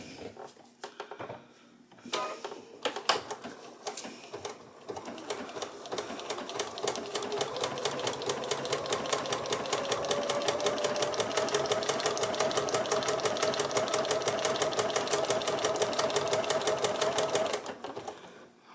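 A sewing machine stitches a chicken applique with its stitch length stretched, starting with a few slow, separate stitches, then settling into a fast, even, rapid clatter that runs steadily and stops near the end.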